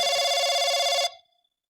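A telephone rings with a steady electronic trill for about a second, then cuts off abruptly, leaving a brief fading tail and silence.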